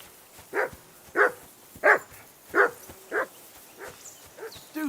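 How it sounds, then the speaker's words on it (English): A dog in Kingdom Come 2 barks in a steady series of about seven evenly spaced, moderately loud yelps, with a whiny edge and fading toward the end. "Do something with that mutt, Henry."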